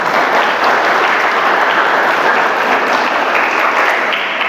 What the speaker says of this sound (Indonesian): Silakan aplaus.